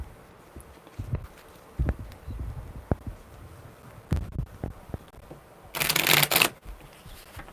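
A deck of tarot cards shuffled in a few short, close rustling bursts with quiet pauses between, ending in a sharper, louder riffle.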